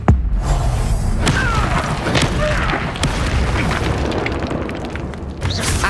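Casting the Incendio fire spell in Hogwarts Legacy sets off a heavy boom followed by several crackling bursts and thuds that rumble on for a few seconds, loud and close, with no voices.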